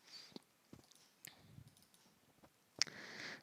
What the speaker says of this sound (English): Just double click on it.